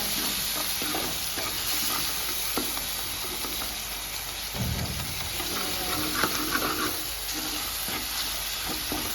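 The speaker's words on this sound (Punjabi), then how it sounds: "ਆਪਣਾ ਜਿਹੜਾ ਤੜਕਾ ਭੁੱਜ ਗਿਆ ਪਤੀਲੇ ਨੂੰ ਮੈਂ ਕਿੰਨਾ ਸੋਹਣਾ ਭੁੱਜਿਆ ਲਾਲ ਟਮਾਟਰਾਂ ਦਾ" Red tomato tadka for saag sizzles and fries in a cooking pot while a spoon stirs it steadily, with a constant hiss and no talking.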